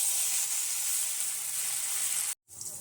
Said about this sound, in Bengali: সকালের খাবারের জন্য আলু ভেজে নিচ্ছি